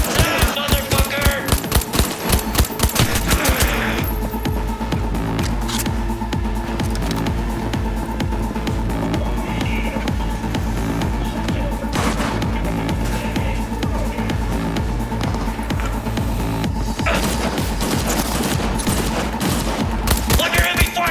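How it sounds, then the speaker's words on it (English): Heavy automatic gunfire during a firefight in the video game Cyberpunk 2077, loud rapid rattling bursts at the start and end over continuous dense battle noise, with shouted voices mixed in. "Under heavy fire! Stay with me!"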